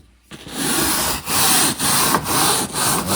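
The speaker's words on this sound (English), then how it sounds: "basically breaking loose all that rub, all that dirt, all the nastiness" Tinted car tail lights scrubbed by hand after being sprayed with cleaner, a loud steady rasping rub repeated in about five back-and-forth strokes with brief pauses between, close and alone.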